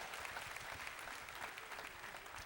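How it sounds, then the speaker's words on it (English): An audience at a faith-themed motivational talk applauds, a steady wash of many hands clapping heard from a distance and fairly faint, with no voices on top. "Let's give our spiritual leader a tremendous round of applause for his introduction."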